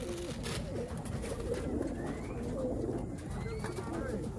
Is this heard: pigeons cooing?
yes